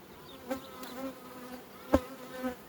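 Quiet, steady buzzing of many honeybees at a hive, with a few louder bees passing close by.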